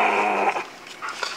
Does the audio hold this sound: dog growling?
yes